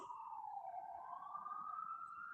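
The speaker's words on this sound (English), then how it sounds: "Hear the siren? It's an ambulance." An ambulance siren wails in a slow, continuous rising and falling tone, faint and distant, steady throughout with nothing else over it.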